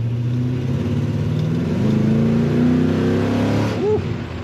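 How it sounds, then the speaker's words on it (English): A 1967 Chevrolet C10 pickup with a 5.3 LS V8 accelerates hard, its engine drone loud and steady and climbing in pitch, with a brief whine near the end. "Acceleration is very good."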